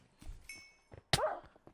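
Sven Packmaster, a dog in the video game Hypixel SkyBlock, gives a short sharp bark among faint thumps and a brief whine, fairly quiet and close.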